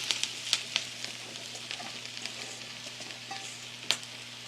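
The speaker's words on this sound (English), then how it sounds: "the onions are sauteing nicely and getting nice and clear, so I am going to add my sliced mushrooms" Sliced mushrooms and onions sizzle steadily in a hot wok, a continuous close frying hiss broken by occasional stirring scrapes and clicks, no voices.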